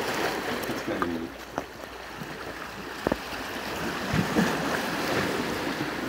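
Gentle waves wash along a Lake Superior beach in a soft steady rush, with a few faint knocks and splashes close by.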